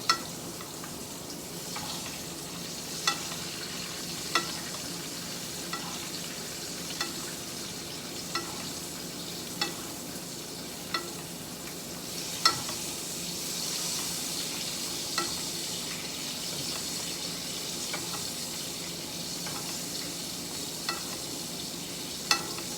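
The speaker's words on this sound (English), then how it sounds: "Now I'm going to baste them again to get the other side, because I don't want to ignore the other side." Pork chops sizzle and fry steadily in a pan while being basted, with a continuous crackling hiss punctuated by regular soft clinks and scrapes of a spoon against the pan, close and alone with no talking.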